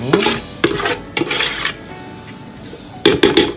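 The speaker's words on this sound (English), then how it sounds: "So we'll stir all of that in" Spoon stirring Afang soup in a pot, with repeated scraping clinks against the pot in bursts, one early, a longer run in the middle and a quick cluster near the end, over a faint sizzle.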